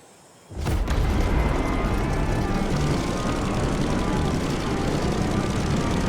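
A Corsair plane takes off in The Crew Motorfest racing game: after a brief quiet moment a loud, steady propeller engine roar kicks in and holds at full power.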